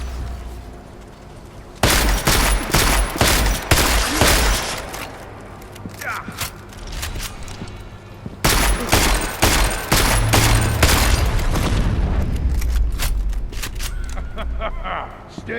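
Gunfire in the video game Deus Ex: Mankind Divided, two loud bursts of rapid shots aimed at an enemy, each lasting several seconds with a quieter gap between them.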